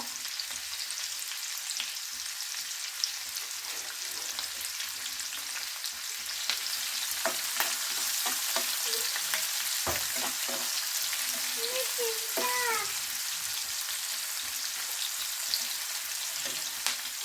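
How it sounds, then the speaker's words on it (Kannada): Curry leaves, onion and a few mustard seeds fry in hot oil in a pan, giving a steady loud sizzle with occasional crackles and stirring scrapes, no voices. "ಕರಿಬೇವು ಮತ್ತು ಈರುಳ್ಳಿ, ಇದನ್ನು ಚೆನ್ನಾಗಿ ಫ್ರೈ ಮಾಡ್ಕೋಬೇಕು"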